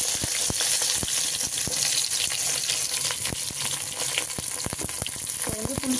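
Chopped onions fry in hot oil with dried red chillies for a tamarind-leaf chutney, giving a steady, loud sizzle with scattered sharp crackles and pops throughout.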